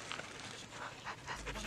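A dog pants quickly and repeatedly at close range on a mountain hiking trail, with soft rhythmic breaths and faint whimpers against quiet outdoor background.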